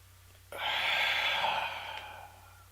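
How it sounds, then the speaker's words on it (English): One deep breath is drawn and released during a relaxation exercise, a close, airy rush that swells suddenly, holds steady, then fades away, heard alone against a low background hum. "Deep breath in, close your eyes."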